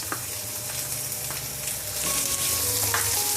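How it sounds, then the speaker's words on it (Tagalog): One large sliced onion fries in a tablespoon of oil for a pork belly dish, a loud continuous sizzle with occasional spatula clicks and stirring sounds close by. "1 tablespoon na mantika. Isang pirasong malaking hiniwa-hiwa na onion."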